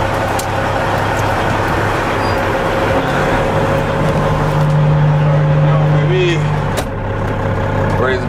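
A dump truck's diesel engine runs steadily and loudly close by as the dump body is raised, with a sustained hydraulic hum partway through and someone talking over it.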